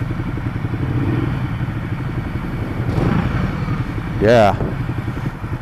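Stock-engine 2015 Ducati Multistrada 1200 S underway: a steady mid-pitched rumbling engine drone with clatter throughout, swelling briefly near the middle, while a rider speaks briefly over it.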